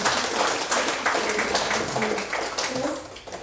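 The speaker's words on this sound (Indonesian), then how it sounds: "tepuk tangan dong." Audience applause at a seminar on dementia in the elderly, a dense, steady wash of clapping from many people, moderately loud for the whole stretch and fading slightly near the end.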